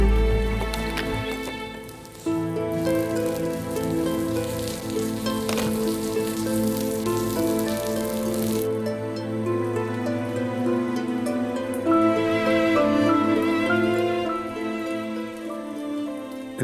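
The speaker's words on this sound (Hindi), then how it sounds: "देखो बारिश हो रही है" Steady rain hisses softly beneath sustained, layered music that plays throughout.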